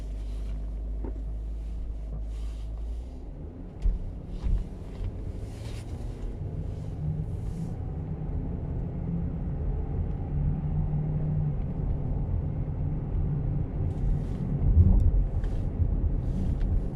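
Range Rover driving on the road: a steady low engine and road rumble with wind noise, continuous and moderately loud, with a slight surge near the end and no talk.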